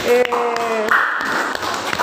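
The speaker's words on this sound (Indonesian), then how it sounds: "Tepuk tangan dong buat kelompok ini." A classroom of students claps for a group of classmates, a short burst of scattered hand claps under a speaking voice.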